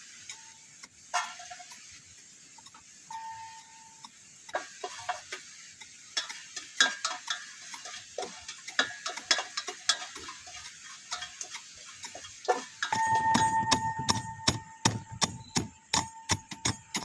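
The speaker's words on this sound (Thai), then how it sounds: "นี่น้องพลอยนี่กำลังตำข้าวคั่ว" Roasted rice being pounded in a mortar while cooking a spicy Isan-style dish, heard as repeated sharp knocks and taps that come in irregular bursts, close and fairly loud, and turn into quick steady pounding near the end.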